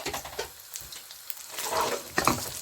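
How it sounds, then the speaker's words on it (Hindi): Chicken fries in oil with cumin in a pan, crackling and sizzling with stirring scrapes and brief bright pops, close and steady without any voice. "ऑयल लिया है, उसमें ये चिकन ऐड करेंगे।"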